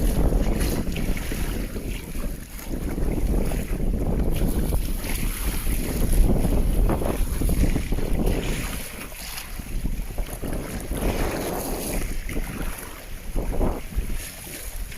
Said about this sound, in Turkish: Güzel bir rüzgar yakaladık. Ee, şu anda hafif bir dalga var.